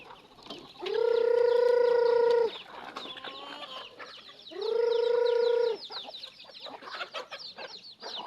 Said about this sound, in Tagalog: magpapatuka tayo ng manok